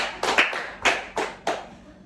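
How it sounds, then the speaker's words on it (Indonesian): A classroom group gives a short round of applause for two students: about five sharp, separate clap bursts from a few nearby hands, spaced unevenly over two seconds, with no talking. "Tepuk tangan untuk Rahma dan Bunga"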